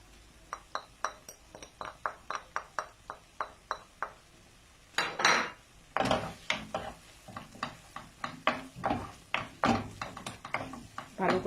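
Spring onions are stirred into spicy tuna fish in a pan, a spatula clinking and scraping against the metal in a quick, regular rhythm, with a brief busier burst of scraping midway before the even taps resume.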